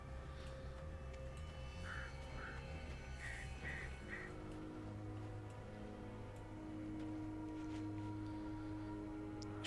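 Birds squawking in the video game Alan Wake, several short harsh calls clustered early and midway over a low droning game soundscape, fairly faint and with no talk.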